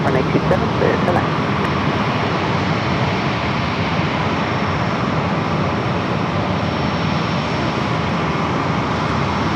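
A heavy Airbus jet engine roars steadily and loud at San Diego airport, a broad continuous rumble that holds throughout.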